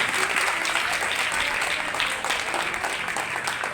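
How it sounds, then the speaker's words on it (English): Audience at a school award function in Hyderabad applauding, a loud, steady, dense roar of clapping that holds throughout without talk. "giving them a big round of applause"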